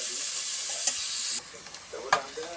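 Onion sizzles in hot ghee in a pan while being stirred, a steady close frying hiss broken by a few scraping clicks of the spoon.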